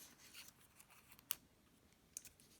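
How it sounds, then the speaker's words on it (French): Scissors snip through paper while cutting out a letter G for a classroom script-and-capital matching activity, giving a few faint, quiet snips with sharp short clicks over soft room hiss. "Je vais donc découper le G."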